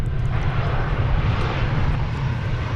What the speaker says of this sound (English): This is flight 1599. It's going to Las Vegas on an Airbus A380.